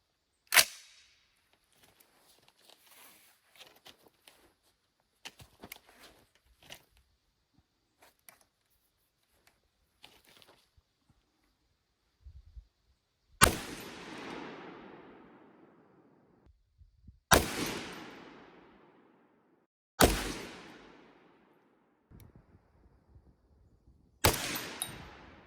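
A SCAR battle rifle fires four loud, sharp shots at a 100-yard target, each with a long decaying outdoor echo and spaced a few seconds apart, after a stretch of faint clicks and handling noises.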